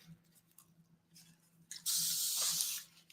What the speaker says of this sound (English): I'm spraying, which I probably am putting too much on there